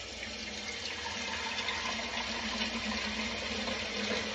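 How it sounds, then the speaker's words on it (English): Tap water runs in a steady, even stream into a soup pot, a continuous splashing rush that holds at the same level throughout with no talking. "Let me get some water in here."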